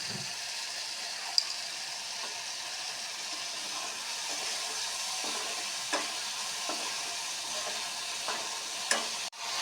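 Ground turmeric, cumin and coriander fry in oil after hilsa fish has been fried, a steady moderate sizzle with occasional stirring scrapes and light clicks.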